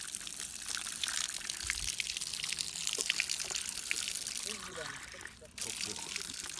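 Spring water flows from a pipe at a mountain pasture, a steady close splashing trickle, briefly dipping before resuming, with people talking over it outdoors.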